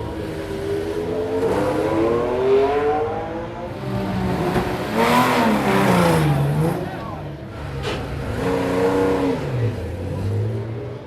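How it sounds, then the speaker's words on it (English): A historic Tajero Buick racing car with a rear-mounted Buick V8 engine at the Goodwood Revival: loud engine roar rising and falling through repeated revs and gear changes, with a voice talking over it. "The wonderful Tajero Buick with the Buick V8 engine in the back."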